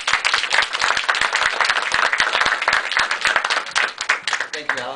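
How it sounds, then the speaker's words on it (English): An audience applauding a speaker at a talk, steady dense clapping from a crowd that lasts about five seconds before a voice begins. "let's give him a round of applause for this program"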